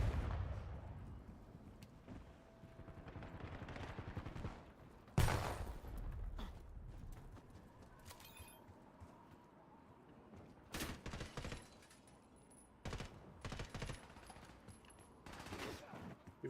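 Sniper gunfire in the video game Call of Duty Black Ops 7: sharp, sudden shots fire now and then over a rumbling battlefield background. A sharp blast lands in the middle, followed later by a few brief bursts.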